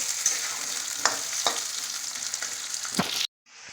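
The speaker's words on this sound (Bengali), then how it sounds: "এবার আলুগুলো ভাজা হয়ে গেলে একসাথে মশলা দিয়ে ফুলকপিগুলো দিয়ে দেবো।" Potatoes fry in a pan before cauliflower and spices go in, giving a steady loud sizzle with a few stirring scrapes. The sound cuts off abruptly near the end, then a softer sizzle follows.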